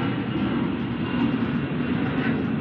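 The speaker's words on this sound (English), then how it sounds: "Aeroplane! This interruption is brought to you by Flybe." An aeroplane flies overhead, heard as a continuous, fairly loud, low roaring drone that holds steady for the whole stretch, with no talk over it.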